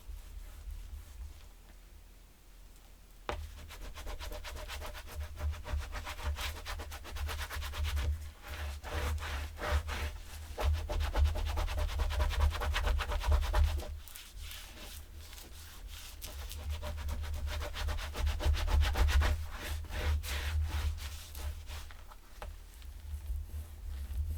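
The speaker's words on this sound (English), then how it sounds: "Burnish real well." Steady rubbing and scraping as paper layers of a handmade journal are burnished down firmly by hand, continuous and close, varying in intensity with no talking.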